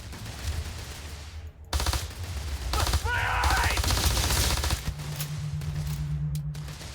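Rapid automatic gunfire from the Kraken weapon in a video game rattles in a sustained burst under a low droning background, with a brief warbling tone mid-burst, loud and close.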